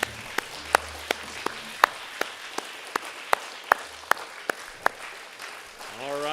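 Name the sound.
audience standing ovation applause at a sports banquet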